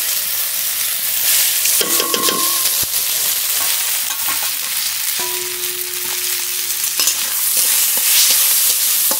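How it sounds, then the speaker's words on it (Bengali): Masoor lentils stir and fry in hot mustard oil in a kadai with a loud, continuous sizzle, scraped and shuffled by a utensil throughout. "ডাল একটু হালকা করে নেড়ে নেব"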